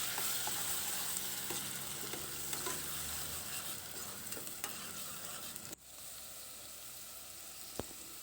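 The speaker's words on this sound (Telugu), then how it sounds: "మిక్సీ పట్టుకున్న ఉల్లిపాయ పేస్ట్ వేసుకుని దోరగా వేయించుకోవాలి" Blended onion paste frying in hot oil in a pan for an Andhra-style curry, a continuous soft sizzle with occasional scrapes of a stirring spoon, quieting after a brief clatter near the end.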